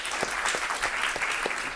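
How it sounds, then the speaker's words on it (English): An audience claps at a closing-remarks event, a dense, steady patter of applause from a roomful of people, moderately loud and continuous with no voices standing out. "Give her a round of applause, please."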